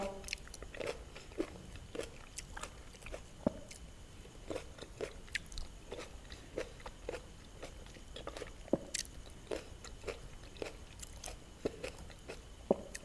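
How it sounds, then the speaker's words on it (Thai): Someone chews papaya close up: a run of moist, crunchy bites and squishy chewing sounds repeating irregularly, loud and alone, without talk. "กินแล้วอยู่ท้องเลยมะละกอ"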